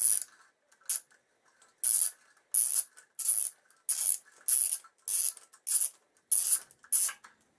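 Ratchet wrench cranking exhaust bolts loose on a Suzuki GSX1300R Hayabusa motorcycle, a series of about a dozen short, crisp clicking bursts in steady rhythm, close and alone with brief pauses between strokes.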